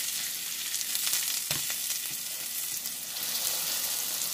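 Beyond Burger plant-based patties fry slowly in a pan on a stovetop, giving a steady, soft hiss of sizzling oil with a brief clink or scrape midway, nearby and fairly quiet.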